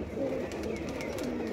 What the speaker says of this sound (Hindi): ये ब्रीडिंग वाले कबूतर है